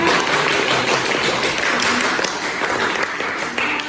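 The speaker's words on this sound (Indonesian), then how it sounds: "tepuk tangan untuk kelompok 2" A classroom group of teacher trainees at a university applauds a group presentation, a dense, continuous wash of clapping at moderate loudness throughout.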